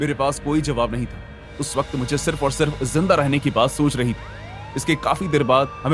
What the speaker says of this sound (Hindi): पुलिस की गाड़ी के सायरन की आवाज आई।